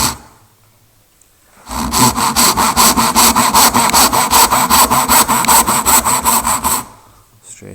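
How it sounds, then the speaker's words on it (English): A tenon saw cuts down through wood held in a vise, about twenty quick, even back-and-forth strokes that rasp loudly up close, starting after a short quiet pause and stopping abruptly near the end. "I'm holding my tenon saw at that angle, but I'm cutting straight down"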